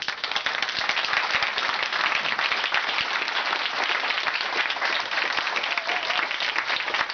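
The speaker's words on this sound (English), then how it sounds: "If we can give them a round of applause." Steady, dense applause from an indoor audience fills the whole stretch, many hands clapping evenly at a strong level without pause.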